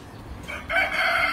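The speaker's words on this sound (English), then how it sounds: "it's a rooster" A rooster crows once, close and clear, a short loud call rising after a brief quieter start, with no talking over it.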